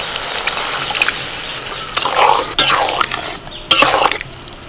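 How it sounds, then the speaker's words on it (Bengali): Water poured into a cooking pot of sautéed spices for lentil dal splashes and gurgles in several bursts, loud and close, between quieter moments of trickling. "এবার জল দিচ্ছি।"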